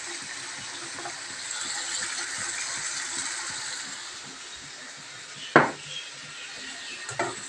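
A tomato ketchup mixture being stirred in a cooking pan: a utensil scrapes and clinks in a quick, steady rhythm under a broad hiss, with a sharper knock against the pan near the end.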